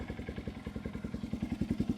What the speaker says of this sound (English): we'll go ahead, turn on the bike